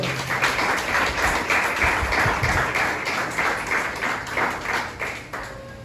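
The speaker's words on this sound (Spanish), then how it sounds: "Denle ese fuerte aplauso al Señor" A church congregation applauds, a thick, loud wash of many hands clapping at once that holds steady and then begins to fade near the end, with no speech over it.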